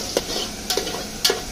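Onions fry in a pan for a rustic village chicken curry cooked on a wood-fired stove, three quick spoon strokes scraping over a constant close sizzle, no voices.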